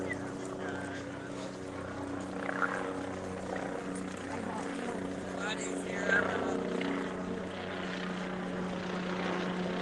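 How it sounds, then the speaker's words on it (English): A helicopter drones overhead above the Mackinac Bridge during a crowd walk, a steady rotor and engine hum under ongoing talk from people nearby. "You guys hear that chopper?"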